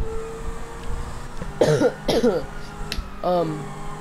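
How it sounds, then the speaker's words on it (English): Two quick coughs come close together, followed by a shorter throat-clearing sound a moment later, close by over a quiet background with faint voices. "It was a cough."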